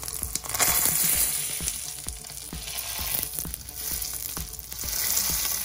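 Vegan sausages fry in olive oil with a steady, close crackling sizzle, dense pops and spatters running throughout without any talk.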